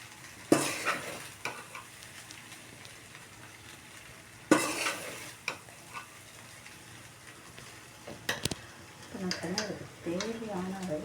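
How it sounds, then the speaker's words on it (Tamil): Cooked rice is stir-fried in a pan for fried rice: a spatula scrapes and stirs over a soft, low sizzle, with occasional sharper clatters. A voice speaks near the end. "அந்த சாப்பாட்டை போட்டு நல்லா வதக்கி விடணுங்க"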